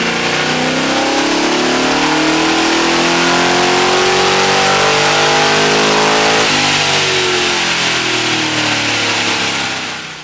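A car engine revs up loudly and steadily for about ten seconds, its pitch sweeping higher and then settling, close by with no talking, during a check of an ignition problem that was just fixed.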